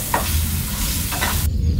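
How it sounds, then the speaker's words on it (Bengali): Potatoes dusted with turmeric and salt are stirred through hot oil, a steady close sizzle with brief scraping clinks of the spoon, continuing for nearly two seconds before cutting off abruptly. "এখন একটু নেড়ে চেড়ে তেলের মধ্যে আলুটা একটু"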